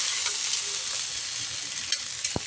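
Pechay stems stir-fried in a pan for sautéed pechay with spicy sardines, giving a steady close sizzle with a few light scrapes and stirring clatters, one sharp tap near the end.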